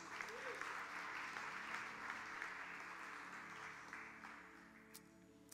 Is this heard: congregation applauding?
yes